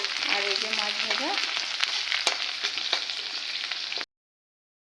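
Fish frying in oil in a pan, a loud close continuous sizzle with crackling pops and a brief scrape, ending abruptly in silence.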